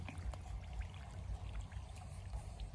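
Water is let out into a rice paddy in a Thai field, producing a steady, soft rushing pour that continues without a break, close by and fairly quiet, with no voices.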